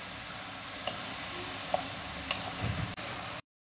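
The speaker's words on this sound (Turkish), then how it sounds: "Tereyağımız eriyene kadar karıştıralım." Butter melts in a pan with a soft, steady sizzle while a spoon stirs now and then, leaving a few faint taps and scrapes. It stays quiet and close, with no talking, and cuts off abruptly at the end.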